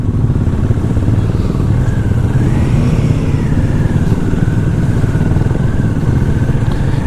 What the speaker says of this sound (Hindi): हमारे पीछे भी बाइकर्स का गैंग है, आगे भी बाइकर्स गैंग है, हम बीच में हैं।